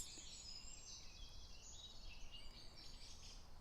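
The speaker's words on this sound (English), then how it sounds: "Can you hear the birds?" Faint birdsong drifts in from a distance outdoors, thin high chirps scattered over a steady quiet background with no talking.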